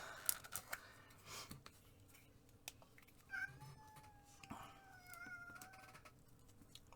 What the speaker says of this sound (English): I think you can hear my cat on my recording.